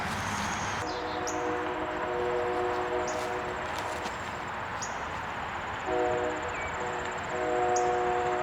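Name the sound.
passing train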